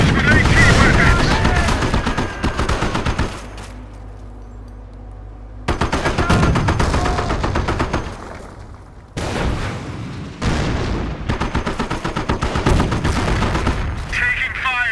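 Heavy gunfire rattles in a Company of Heroes battle around a Sherman tank, with dense bursts of machine-gun and rifle fire and booms that pause briefly twice before resuming, loud and close.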